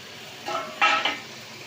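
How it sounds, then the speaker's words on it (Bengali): Fried potatoes go into a fish curry masala in a pan and get stirred, producing a short rustling sizzle and a couple of brief scraping, clattering bursts over a quiet hiss. "এবার আমি এর মধ্যে দিয়ে দেবো ভেজে রাখা আলুগুলো"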